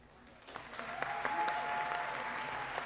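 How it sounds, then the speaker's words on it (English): Audience applause at a university fashion show, a faint start swelling into sustained, steady clapping from a large crowd in a hall, with a few sharper claps standing out. "A big round of applause."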